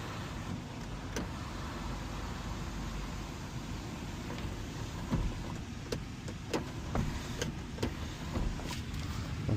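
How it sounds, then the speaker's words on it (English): A car sunroof motor closes during a pre-sale inspection of a family vehicle: a faint, steady whirring hum, then a scatter of small clicks and soft thumps toward the end as it shuts. "Also got to make sure the sunroof works."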